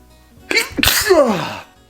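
A single loud, close sneeze with a sharp intake and explosive burst, trailing off into a brief vocal tail.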